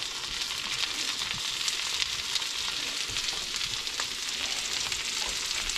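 Baby back ribs sizzle and spatter steadily in a pan of melted butter, a close, continuous hiss with small pops throughout.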